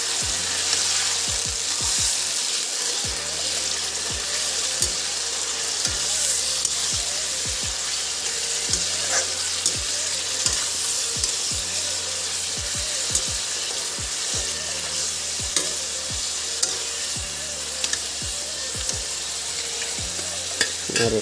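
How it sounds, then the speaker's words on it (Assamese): Mutton frying in a pan, a dense continuous sizzle with frequent sharp scrapes and knocks of stirring throughout, close and steady with no talk. "মাংসটো দিলোঁ, কিন্তু মছলাটো এতিয়াও দিয়া নাই, মছলাটো দিম, মাংসটো অকণ ভাজি ল'ম মই"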